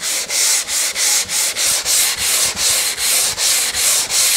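Hand sanding of edge banding along a board's edge: steady back-and-forth abrasive strokes, about a dozen in an even rhythm, close and loud with no talking.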